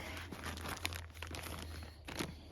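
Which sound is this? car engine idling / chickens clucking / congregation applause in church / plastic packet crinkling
plastic packet crinkling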